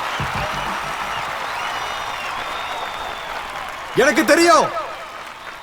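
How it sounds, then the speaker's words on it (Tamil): An audience bursts into a short round of applause near the end, clapping for about a second after someone speaks Tamil into a microphone. "உங்களோட இந்த கைத்தட்டல் நான் சம்பாதிச்சது கிடையாது"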